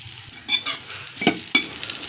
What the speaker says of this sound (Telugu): బీరపొట్టు వేయించేసుకుందాం. బీరపొట్టు వేసేస్తున్నానండి.